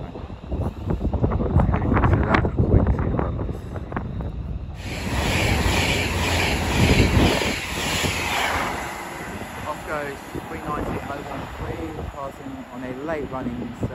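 A Class 390 train rushes through Watford Junction on the West Coast Main Line, its loud passing roar whipped by heavy wind buffeting on the microphone, with a person talking during it.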